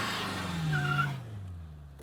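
A car doing a burnout with traction control off and the rear brakes overpowered: a loud, sustained engine drone and rising tire squeal pour out together, holding steady before the squeal cuts off and a lower engine hum lingers.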